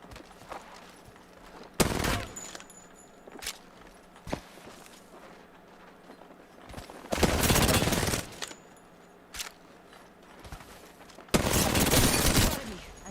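Bursts of rapid automatic gunfire in a first-person shooter game come in three long loud volleys with scattered single shots and footsteps between them, over a low background hum.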